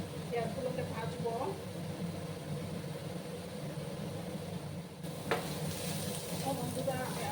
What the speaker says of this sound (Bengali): যতক্ষণ না পেঁয়াজের কাঁচা গন্ধটা যাচ্ছে ততক্ষণ আমি পেঁয়াজগুলোকে ভাজবো